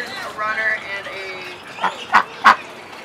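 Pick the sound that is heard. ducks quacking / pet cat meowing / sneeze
ducks quacking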